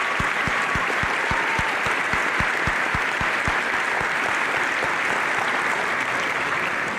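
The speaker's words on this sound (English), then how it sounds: "So how about a huge round of applause for our staff for all that they do." Steady, dense applause from a large crowd at a high school commencement ceremony, continuous and loud for the whole stretch, with no voices rising above the clapping.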